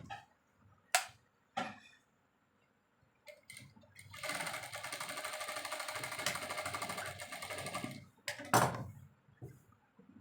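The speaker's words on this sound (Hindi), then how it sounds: "अब इसे पहले हम लोग शोल्डर वाली जगह जो कंधे है उसको स्टिच करेंगे पहले ऐसे।" A sewing machine stitches the shoulder seam of a vest in one steady run of about four seconds, bracketed by a few sharp clicks and taps before and after.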